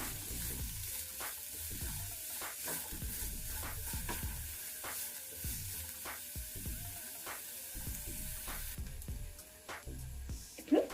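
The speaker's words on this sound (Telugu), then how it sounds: "కొంచెం పచ్చి వాసన పోయే వరకు మనం వేయించుకోవాలి" Chopped beans and other vegetables fry in a pan for a lemon coriander soup, a steady broadband sizzle running throughout, broken by repeated scraping stirs at a fairly regular rhythm, with no talking.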